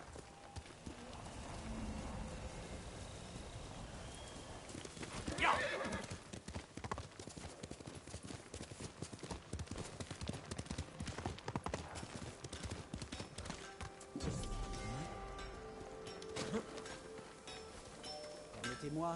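Horse hooves clip-clopping steadily in Ghost of Tsushima, with a horse's whinny rising partway through over a continuous bed of game ambience and music.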